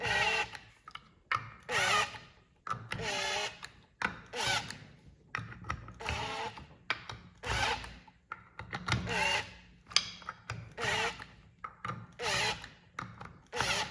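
A power drill drives threads into aluminum on a turbo Yamaha Nytro snowmobile project, running in a dozen or so short, whining bursts with brief pauses between them, fairly close and loud, with no talking.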